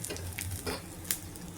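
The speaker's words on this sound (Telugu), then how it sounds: "పోపు వేగింది, పులుసులో వేసేసుకుందాము" A tempering of dried red chilli pieces and cumin sizzles and crackles as it is stirred into a sweet potato stew, with short bright hissing bursts over a low steady hum.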